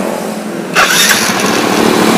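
A Yamaha Jupiter Z motorcycle engine starts up and settles into a steady, loud, close running drone with no one talking over it.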